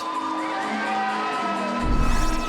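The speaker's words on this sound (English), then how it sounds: "Their fans cheering" Fans cheer at the 2009 FA men's national championship final, a dense crowd roar with tonal shouts and whoops that swells louder toward the end.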